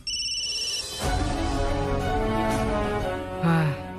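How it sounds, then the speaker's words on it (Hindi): A phone rings repeatedly with an electronic, melodic tone, going on continuously and unanswered, fairly loud and close. "फोन लग रहा है, फोन उठा नहीं रही हो।"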